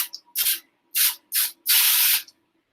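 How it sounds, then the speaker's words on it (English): Four short hissing bursts from a can of nonstick cooking spray, the last one longest, close up with brief pauses between them. "I'm going to use a little bit of nonstick spray"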